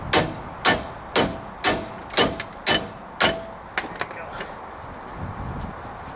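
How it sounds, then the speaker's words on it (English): A hammer strikes the taper of a sway bar link on a 1995 Dodge Ram 2500, seven sharp metallic whacks at a steady rhythm, then a few lighter taps fading out. "if you take a hammer, give it a good whack, you'll break the taper loose."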